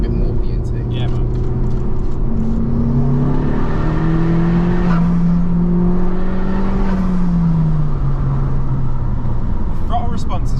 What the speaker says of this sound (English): I'll even pull the window down so you can hear a tiny bit more of the intake.